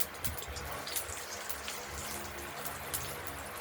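Banana blossom (bharali) frying in hot oil in a wok with mustard seeds, giving a steady close crackle and spatter of sizzling throughout, with no voices.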